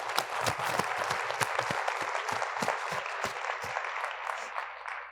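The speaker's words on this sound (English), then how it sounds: "So a round of applause for you." Audience applause at a city State of the City address, a fairly faint but steady round of clapping with distinct individual claps, fading slightly at the close.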